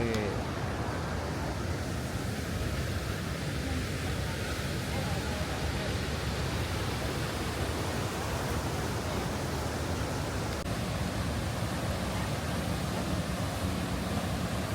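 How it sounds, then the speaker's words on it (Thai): Rhine Falls in Switzerland roars in full flow, a constant, dense wash of falling water filling the whole scene at an even, steady level. "น้ำตก ตกแรงมาก"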